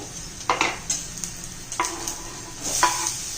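Onion and tomato frying in a pan, a continuous close sizzle broken by several stirring scrapes and clicks of a utensil against the pan.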